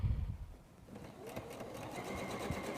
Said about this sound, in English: If you can go ahead and sew that quarter-inch unit to the other one.